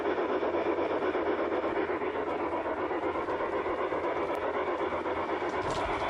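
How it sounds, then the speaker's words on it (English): A Santa Fe Super Chief model train runs on its track looping around a dining room table indoors, making a steady, close whirring rumble with light rail clatter and no talk. "this one's my favorite, the Santa Fe Super Chief"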